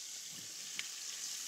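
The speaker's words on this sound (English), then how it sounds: "just brown it a little bit here, a little bit there" Short ribs brown in a pan, giving a steady, fairly quiet sizzle with one small sharp pop midway, close and unbroken by any voice.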